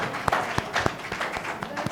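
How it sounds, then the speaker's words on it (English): At an award ceremony, a scattering of audience claps sounds as uneven, sparse smacks over a short stretch, mixed with a speaking voice. "So a big round of applause for him."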